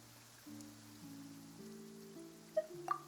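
Rain falling in the Genshin Impact video game, a soft steady patter under sustained gentle music, with a couple of brief bright chimes near the end.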